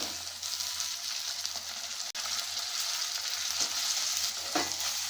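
Soaked potato pieces drop into hot tempering oil for a flat bean, potato and tomato curry, setting off a steady, close hiss of frying with a sharp clink and stirring scrapes partway through.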